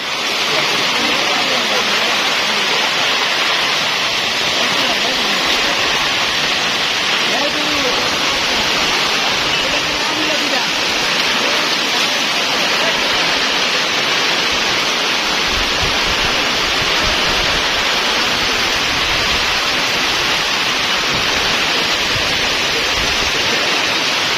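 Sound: heavy rain

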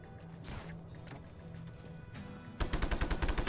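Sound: gunfire in Just Cause 3 video game

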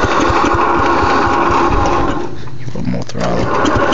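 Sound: small engine starting with throttle and choke

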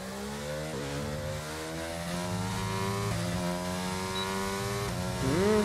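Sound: Formula 1 cars' engines racing in F1 22 video game

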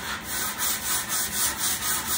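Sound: sanding wood with sandpaper

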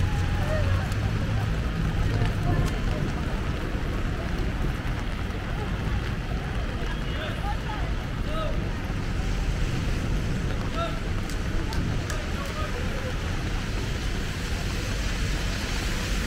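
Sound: rain falling in Dubai

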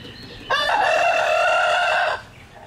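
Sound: chickens clucking and rooster crowing

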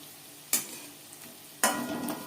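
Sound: onion rings frying in oil over medium flame

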